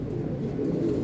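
A captive female Teddy breeder pigeon coos on a foggy morning, giving a low, continuous throaty burble that lasts about a second, close and fairly loud with no other voices.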